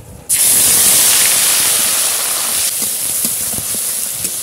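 Onion paste hits hot oil in a wok with an abrupt loud hiss that holds as a steady sizzling spray, softening slightly toward the end with faint crackles.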